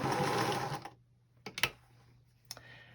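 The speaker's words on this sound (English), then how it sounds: "Then we're going to stitch off the back." A sewing machine stitches quilt binding in a short, close, steady whir that stops abruptly, followed by a few faint clicks and taps.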